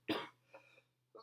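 A person coughs once hard and close, followed by two shorter, softer coughs or throat-clearing sounds after brief pauses.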